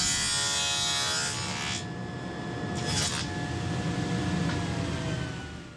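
A power tool cuts a box joint slot in wood using a shop-made jig, a steady high whining buzz that holds for several seconds, with brief bursts of cutting noise and a fading tail.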